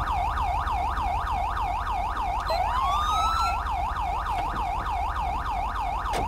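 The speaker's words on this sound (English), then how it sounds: "that siren could be annoying sometimes" A police car siren in GTA 5 wails loud and close in a fast, steady up-and-down yelp, joined midway by a brief rising whoop, over a constant low engine drone.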